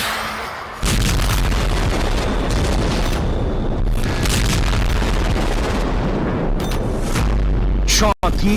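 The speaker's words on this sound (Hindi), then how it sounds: "रूस ने यूक्रेन पर एक ही रात 34 मिसाइलों से हमला कर दिया।" Blasts from Russian missile strikes on Ukraine, a sustained roar of booming explosions and rumbling with a sharp break near the end, a voice speaking over it.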